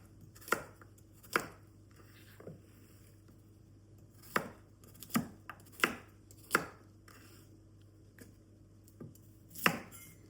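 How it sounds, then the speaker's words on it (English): Large carrots being roughly cut for a rustic stew, a knife striking the board in about ten separate chops spaced irregularly, close and fairly crisp against a quiet background with a low steady hum. "So I'm just going to roughly cut these because we want a rustic stew basically"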